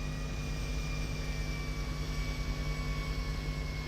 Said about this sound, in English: And eventually the jets will stop.